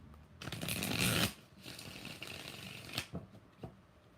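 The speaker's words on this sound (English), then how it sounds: "2 more shuffles." Tarot cards shuffled for an eclipse reading, one loud close riffle rushing for about a second, followed by quieter rustling and a few sharp card snaps and taps, with no voice over it.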